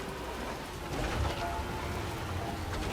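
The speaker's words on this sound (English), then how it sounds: "Now we got rain down here closer to the surface." Steady rainfall in the video game Death Stranding 2, a dense, even hiss of drops on surfaces with a low rumbling undertone, continuous and moderately loud with no voices.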